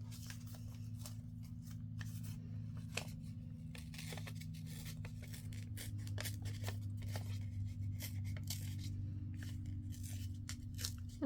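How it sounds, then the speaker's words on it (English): Coffee-dyed paper is torn by hand in a series of quick, faint ripping strokes over a low steady hum in a quiet room. "let me tear these real quick"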